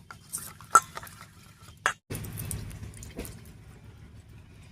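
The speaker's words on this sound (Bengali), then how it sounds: "এবারে কড়াইয়ে সর্ষের তেল দেব।" Mustard oil poured generously into a wok, ready for frying egg pakoras: a few sharp metallic clinks, then a soft, steady pouring hiss that runs for several seconds.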